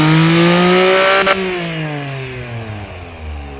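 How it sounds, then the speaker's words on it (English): A high-revving car engine in the game Automation, built as a Honda City Turbo rival, climbs loud and close through a rising note, then drops into a falling, sagging tone as the revs come down. "as you will now hear, it is a fun, high revving engine"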